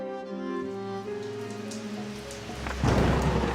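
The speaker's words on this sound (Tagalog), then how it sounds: "Kasunod ng pagbuhos ng malakas na ulan." Heavy rain pouring down during a morning thunderstorm in a rural village, with a low rumble of thunder building and the downpour swelling sharply louder toward the end; no voices.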